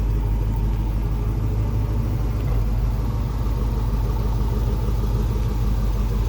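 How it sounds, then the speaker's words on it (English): A 1986 Chevrolet K5 Blazer's fuel-injected engine idles steadily, a smooth low rumble with an even, unbroken hum and no other sounds. "Bringing down the idle."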